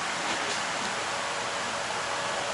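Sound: heavy rain downpour

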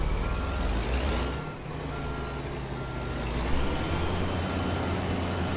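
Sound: truck reversing beeps while pulling out, American Truck Simulator video game

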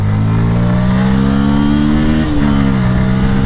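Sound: Bajaj Pulsar N160 motorcycle accelerating

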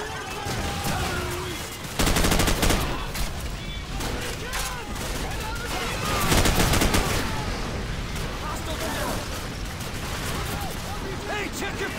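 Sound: gunfire in video game Call of Duty 4: Modern Warfare

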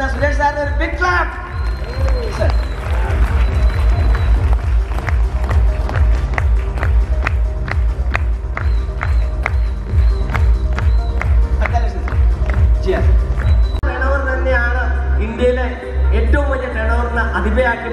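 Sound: audience applause at a celebration event

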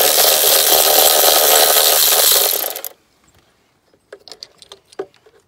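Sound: 13 mm socket removing idler pulley on R53 Mini Cooper S

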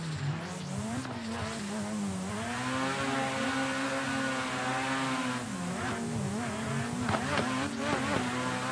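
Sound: drifting car clutch kicks and tire squeal in a racing video game

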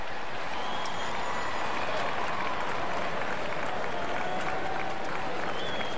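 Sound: smattering of applause from baseball stadium crowd

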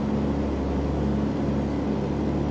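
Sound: truck engine climbing a hill in American Truck Simulator video game

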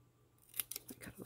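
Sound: scissors trimming paper

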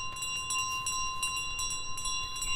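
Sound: bell carried in Untitled Goose Game, video game

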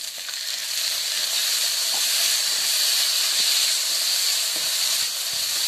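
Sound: chopped tomatoes sizzling in a hot pan with capsicum

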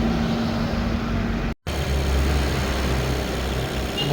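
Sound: car engine running during filter regeneration

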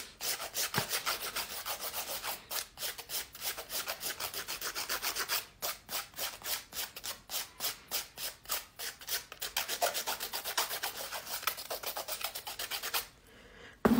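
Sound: filing fingernails with a nail file

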